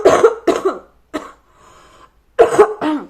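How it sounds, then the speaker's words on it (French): A woman coughs in short bursts, two quick coughs, a single cough, then after a brief pause two more, loud and close. "Pardon, je tousse beaucoup."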